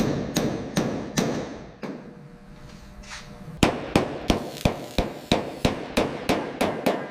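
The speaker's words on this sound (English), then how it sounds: "Reshaping the metal. Listen to the rhythm of the hammer." A hammer pounds car body metal on a Buick Skylark under restoration, landing sharp ringing blows. A quick burst comes first, then after a pause a steady rhythmic series of strikes lands close and clear.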